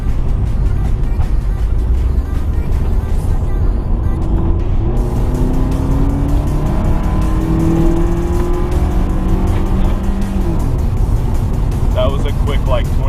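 A stock 1995 Nissan 240SX with a KA engine and automatic transmission is driven hard downhill, giving a steady loud engine drone with rising revs and gear changes under constant road and wind roar, heard from inside the car.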